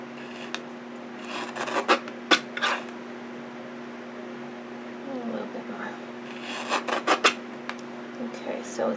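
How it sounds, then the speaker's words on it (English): Paper being cut on a small mini guillotine trimmer for a stamped card, with quiet scraping rasps of the blade sliding in two short clusters separated by a hush. "Bring in my little mini guillotine trimmer."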